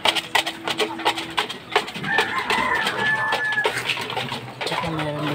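Gamecock roosters in their coop cluck and call at feeding time, a busy mix of short clucks, squawks and a drawn-out crow-like call, with scattered clattering nearby.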